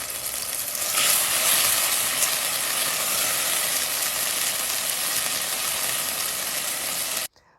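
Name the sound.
garlic frying in oil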